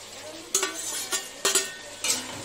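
Fried bitter gourd cooking in mustard-poppy paste with green chili, stirred in a pan: a low sizzle broken by three or four sharp spatula scrapes at regular intervals, close by.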